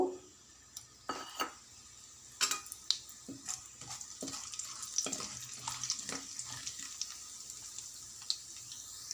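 Cumin, mustard seeds and chana dal tempering in hot oil in a kadai for a drumstick masala curry, giving irregular close crackles and sharp pops over a soft steady sizzle, with no talking.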